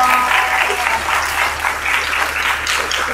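Children clap loudly together in sustained, energetic applause that holds strong for several seconds.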